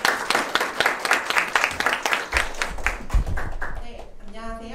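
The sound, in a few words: audience applause welcoming startup presenter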